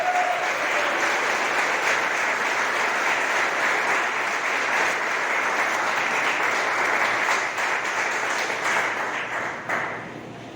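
A church congregation applauds at a service, with steady, dense clapping from a large crowd that holds for about ten seconds and then begins to thin.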